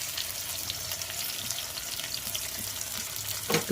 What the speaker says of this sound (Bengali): পেঁয়াজ এগুলো তেলে দিয়ে দিচ্ছি